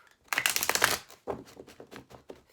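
A deck of tarot cards is shuffled close up in a quick riffling burst, then a few softer separate card slaps and shuffles follow.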